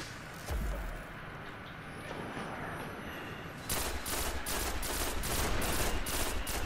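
Gunfire in a video game: a burst of rapid automatic shots near the start, then a steady run of repeated shots in the second half, all fairly faint against a background hum.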